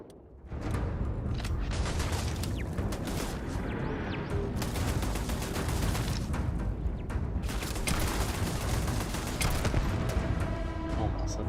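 Sustained automatic turret fire aimed at the player in Starfield, a dense, loud barrage of rapid gunshots and impacts that continues for over ten seconds with little pause, with a voice briefly heard beneath it.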